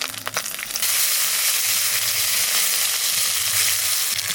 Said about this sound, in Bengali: দিয়ে দেবো আদা বাটা এইবার দিয়ে দেবো কাঁচা লঙ্কা বাটা